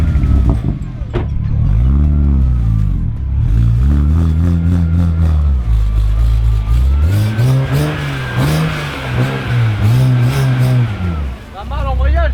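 A BMW 335i with a manual gearbox revs repeatedly, its engine note rising and falling in several loud, close pulls with gear changes between them, and a voice speaks briefly near the end.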